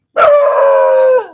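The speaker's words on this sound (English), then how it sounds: "Never had a dog bark at me doing a headstand till now. Or howl at me." Dog howling close by during an outdoor morning yoga session at a miniramp, one sustained tonal howl of over a second that starts with a sharp bark-like onset and tails off, heard alone with no talk.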